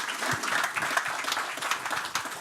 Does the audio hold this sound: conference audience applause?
yes